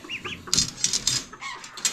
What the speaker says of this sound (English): Pretty little rooster, though.